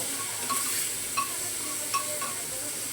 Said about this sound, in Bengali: আদা কুচি দিয়ে একটু ফ্রাই করে নেব